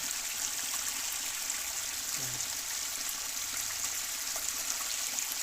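Water is poured steadily while the water in a container of live animals is changed, a continuous rushing trickle at even loudness, with a brief low knock partway through.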